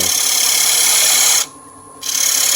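A lathe gouge cuts a dry wood bowl with a steady, close rasping hiss that drops out briefly near the end and then resumes.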